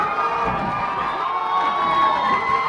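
Wrestling crowd at an indoor PPW show cheering and shouting in a steady, dense roar, with children's voices mixed into the sustained noise.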